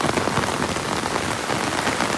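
Heavy rain pours down in a village, a dense, continuous hiss of drops striking surfaces, loud and close, with no voices.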